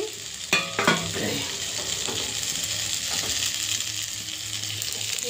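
Hot water goes into a pan of frying vegetables and fish curry, setting off a loud hiss and crackling sizzle after a couple of sharp clatters. The bubbling continues steadily near the microphone.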